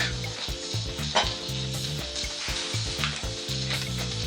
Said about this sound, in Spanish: Ahora lo que voy a hacer es sofreír.